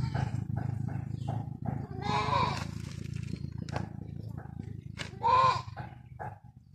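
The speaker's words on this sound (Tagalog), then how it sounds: "Ang ingay ng alaga namin ng kambing." Goats bleat repeatedly nearby, short calls coming in irregular bursts over a low rumbling background, with a louder cry near the end.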